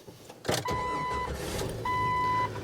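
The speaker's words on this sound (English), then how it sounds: "Man, this thing starts up so much nicer." A Jeep Wrangler with a new starter and a repaired exhaust leak cranks briefly and fires up, then settles into a steady close idle, with a chime tone sounding twice.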